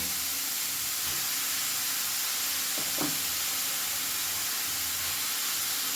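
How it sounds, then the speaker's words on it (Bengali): Grated beetroot and carrot sizzle steadily in a pan over a medium flame, giving a continuous close hiss and crackle, with a brief stir scrape partway through. "বেশ ভালো করে কিছুক্ষণ মিডিয়াম ফ্লেমে নাড়াচাড়া করে নেব যাতে বিট আর গাজরের যে জল বেরোবে সেই জলটাও যেন শুকিয়ে যায়"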